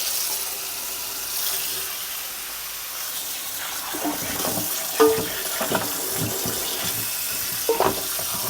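Hot bones for bone broth rinsed under a running kitchen tap, a steady hiss of flowing water with occasional splashes and clunks as the bones shift in the stream, close and moderately loud.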